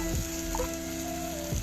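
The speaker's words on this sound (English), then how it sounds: "Cook the tomatoes till they turn mushy." Chopped tomatoes cook in a spiced masala in a pan, giving a soft steady sizzle with faint ticking and stirring sounds, quiet and close, with no talking.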